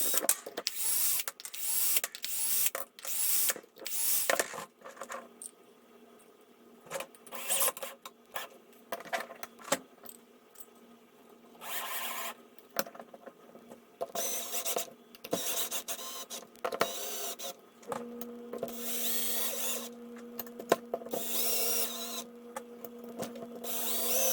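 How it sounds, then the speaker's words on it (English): Small tools click, tap and rub in short irregular bursts while a timing pulley is swapped and fitted on a robot arm, close and fairly quiet, with a faint steady hum in places. "let's swap out this timing pulley and get it installed"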